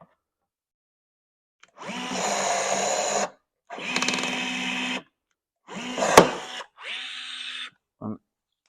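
A battery-powered rivet gun fits rivets on a damaged Fiat 500 Lounge: four separate whirring motor bursts of one to two seconds each, with a sharp snap in the third and a short final blip, close and alone in silence.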